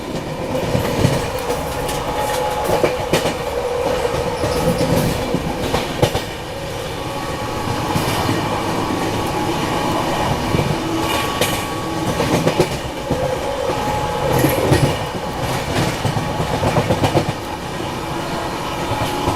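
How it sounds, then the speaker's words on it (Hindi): Rajdhani Express rolling at speed while overtaking the Prayagraj Express, heard from on board as a loud, continuous rumble of wheels with rhythmic clickety-clack and occasional squeals, no voices. "लग रहा है अब प्रयागराज एक्सप्रेस को ओवरटेक करने वाली है अपनी ट्रेन"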